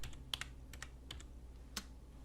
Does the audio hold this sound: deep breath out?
no